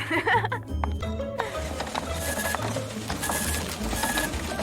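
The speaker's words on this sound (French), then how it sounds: "Oh non, ça continue d'imprimer." A small printer runs continuously, whirring and clattering at a moderate level, with a few brief clinks and faint voices in the background.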